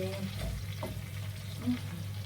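Steady sizzle of food frying in a pan, a continuous crackling hiss at moderate level with no voices.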